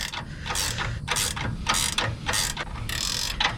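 Ratchet wrench tightening steering rack bolts during an electric steering rack install on an F100 with a Crown Vic swap, heard as repeated bursts of fast clicking, close and steady, with no talk.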